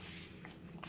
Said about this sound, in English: finish off with the Flower Beauty setting spray